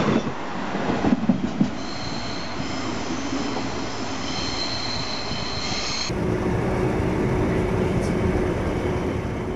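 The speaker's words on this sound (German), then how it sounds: "Hier steigen wir in einen Regionalzug, der uns über Rendsburg bis nach Husum bringen wird." A regional train in Schleswig-Holstein rolls along the rails between Kiel and Husum, a steady loud interior rumble with clacking wheels and a thin sustained squeal, heard from on board without talk.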